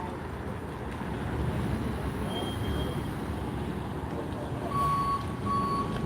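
Reversing beeps from a tow truck at a roadside DUI arrest scene, a few short repeated tones rising above steady traffic rumble and wind.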